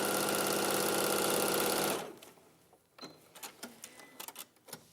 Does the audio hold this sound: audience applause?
no